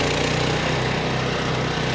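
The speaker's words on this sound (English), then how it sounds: "So now the flail mower is running." A Weibang Velocity 68 tracked flail mower revving flat out, a loud, steady engine drone with the rapid pulsing throb of spinning flails, close by and continuous with no talking.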